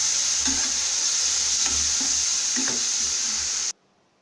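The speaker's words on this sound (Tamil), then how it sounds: "தக்காளி நல்லா பேஸ்ட் ஆகிற வரைக்கும் வதக்கணும்." Tomatoes sizzle steadily in a hot pan while a utensil stirs and scrapes in a loose rhythm, close up, before cutting off abruptly.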